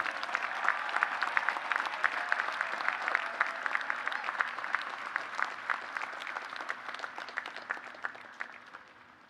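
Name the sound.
audience cheering and applauding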